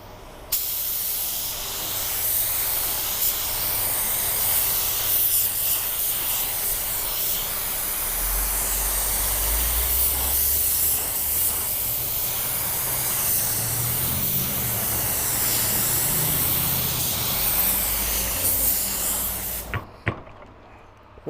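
A Sagola 4600 spray gun with a 1.2 tip lays down clear coat in a continuous loud, close hiss of atomised spray lasting about twenty seconds, cutting off abruptly near the end.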